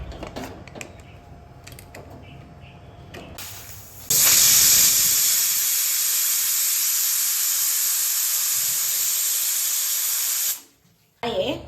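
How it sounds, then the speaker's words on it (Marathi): A loud, steady hiss of escaping steam from a pressure cooker whistle runs for several seconds after some quieter kitchen clatter, then cuts off abruptly. "1 ते 2 शिट्ट्या आता आपण करून घेणार आहोत।"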